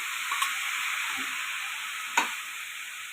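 Cut macaroni hits a hot pan for a Chinese sweet and sour dish and sizzles steadily up close, with a couple of brief clinks from the stirring utensil cutting through the hiss.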